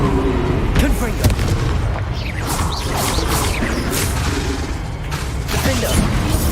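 A Confringo spell blasts in the Hogwarts Legacy video game, with loud booming impacts and crashes over a dense, continuous battle din, and a voice calls out spells.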